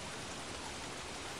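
Heavy rain in the game Don't Starve Shipwrecked pours as a dense, even hiss, steady and moderately quiet throughout.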